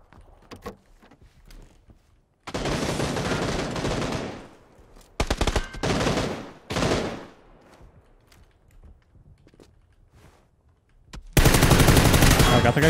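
Bursts of automatic gunfire in the battle royale game PUBG come in long loud rattling volleys separated by quieter gaps with scattered single shots, with players talking between them.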